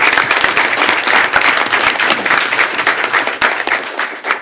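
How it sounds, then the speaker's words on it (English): An audience at a school board meeting breaks into sustained, dense clapping that carries steadily for several seconds before thinning slightly toward the end. "One more round of applause for Ms."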